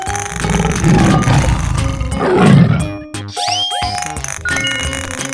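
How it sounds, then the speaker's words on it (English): A tiger lets out a loud, rumbling roar in a 3D animal video game, building up over about two seconds amid game music before giving way to bouncy chime and boing effects. "Tiger."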